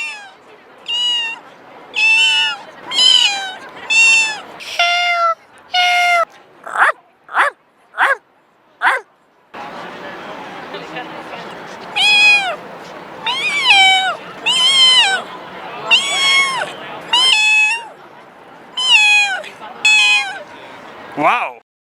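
A person playfully imitates cats and dogs at a pet show, producing a string of loud, close meows and whimpering yelps in uneven bursts, with a stretch of noisy breath between groups.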